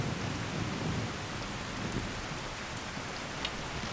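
Heavy rain pouring down in the video game Skyrim, a dense, unbroken hiss of downpour with a low rumbling undertone, steady and enveloping.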